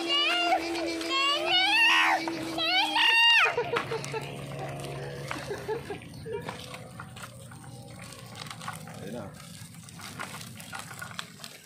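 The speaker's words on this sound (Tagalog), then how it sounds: "laki aso yan" A large dog lets out a few deep barks up close near the start, followed by quieter rustling and faint background voices.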